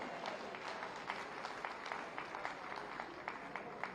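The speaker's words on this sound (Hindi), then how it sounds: "आप सब जोरदार तालियां इस बालक के लिए बजाएं" An audience at an Uttar Pradesh Day state ceremony claps during a prize presentation, dense, continuous applause with scattered sharper claps, faint and distant, lasting the full four seconds.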